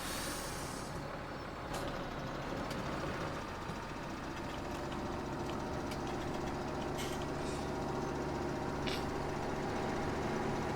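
A tractor engine runs steadily in Farming Simulator 17 on the Lossberg map, a continuous low drone with faint clanks on top and no talking.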